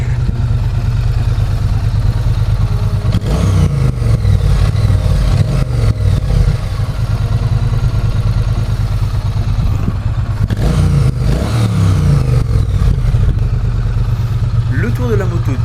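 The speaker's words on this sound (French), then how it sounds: "Le bruit des silencieux d'origine est de très bonne facture, il n'a aucunement besoin de plus pour être entendu." A Triumph Bonneville Street Cup 900 motorcycle with its stock exhausts idles and revs loud and close, its deep throb rising and falling under a few blips of the throttle, with a voice talking over it.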